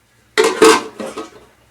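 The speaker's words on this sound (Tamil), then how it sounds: "ஒரு தட்டை போட்டு மூடி வச்சுருவோம்." A brief ceramic clatter as a plate is set as a lid onto a metal pot of cooking chicken biryani, with a couple of quick knocks that fade out.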